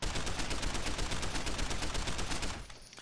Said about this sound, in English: He's shooting up his place right now.